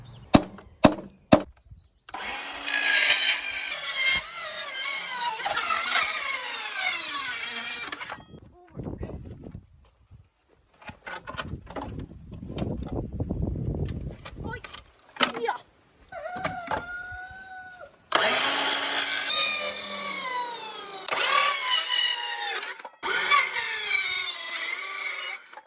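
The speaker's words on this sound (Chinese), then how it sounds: "砂纸" Sandpaper is rubbed over scrap wood being made into a handmade chalkboard sign, giving bursts of dry, raspy scraping strokes separated by quieter gaps, with some voice or background sound in between.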